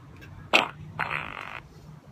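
A fart sound board plays a bubbly fart effect resembling breaking wind in bathwater: a sharp burst followed by a short wet, buzzing bubbling stretch, clear and close with no talk.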